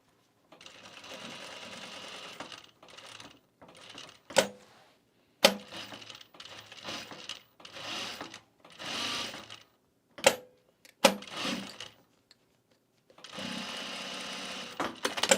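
A sewing machine stitches a split pocket on a Happy Trails travel bag in short, start-stop bursts of rapid needle whirring, broken by pauses and a few sharp clicks.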